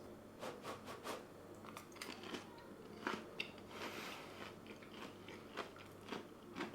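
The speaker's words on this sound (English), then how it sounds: "Can you hear the crunch?" Someone bites into crispy, juicy Japanese fried chicken, producing soft, close crunches and chewing crackles in an irregular rhythm, quiet throughout, with no talking.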